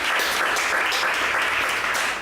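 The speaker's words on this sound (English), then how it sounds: "So big round of applause for them" An audience gives a steady, dense round of applause to the featured poets at a poetry reading, loud and close throughout the short stretch.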